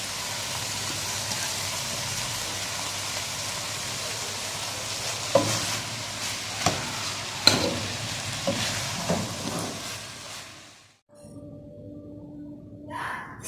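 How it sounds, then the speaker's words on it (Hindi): Spaghetti being stirred and tossed into a vegetable chicken mixture in a sizzling pan, a steady frying hiss with scraping stirs and a few clattering knocks of the utensil before it quiets, close by with no speech. "अब हम स्पैगेटीज में इसको मिक्स करते हैं।"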